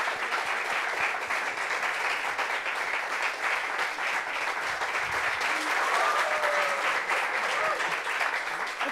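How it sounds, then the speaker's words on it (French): Studio audience applauding a guest on a French-language talk show set, a dense, even wash of clapping that holds at a steady level for the whole stretch, with no one speaking. "Applaudissements pour lui"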